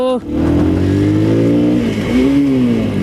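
A Bajaj Dominator 250 motorcycle engine revs up loudly and close after a short gap, its pitch climbing and holding, then dipping and rising again in a second burst.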